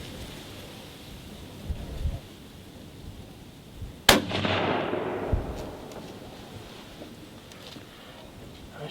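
A hunting rifle is fired at a doe outdoors. A single sharp, loud report cracks out midway and leaves a long fading echo, set against a faint wind-like background.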